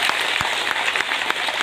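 Played applause effect: a steady, dense crowd clapping at even loudness throughout, with no voices over it.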